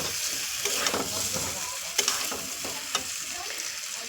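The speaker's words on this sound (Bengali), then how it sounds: "ঝোলের জন্য জল দিয়ে দেব।" Sizzling potato curry fries steadily in a pan, a constant close crackle broken by a few sharp clicks of utensils, with no distinct pour of water standing out and no talking.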